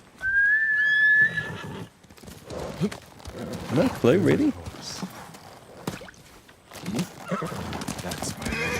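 A horse in the video game Ghost of Tsushima whinnies shrilly at the start, followed by snorts and hoof clops, while a person talks briefly over the sounds.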